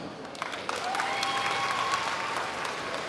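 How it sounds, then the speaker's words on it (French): Audience at a Saturday cosplay show applauding on request, a sustained even wash of clapping from a large crowd, moderately loud and continuous, with a faint voice briefly audible. "Vous pouvez me faire une démonstration d'applaudissements?"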